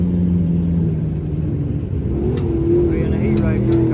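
Open wheel dirt race car engine idling with a deep rumble and rising into brief revs, heard close, with a voice talking over it.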